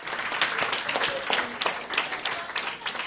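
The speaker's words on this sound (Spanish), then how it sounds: "De un aplauso al Señor por estos tres" A church audience applauding after a preacher's call, a burst of dense clapping with a few sharper individual claps standing out, fairly loud and close, without speech over it.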